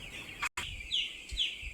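Chickens in a poultry shed cluck and chirp in short repeated calls, fairly near, with a brief sharp break midway and steady shed noise underneath.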